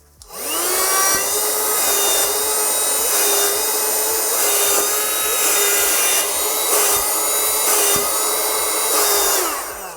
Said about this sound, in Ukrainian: пилососу, доволі непогана потужність для поверхневого прибирання в автомобілі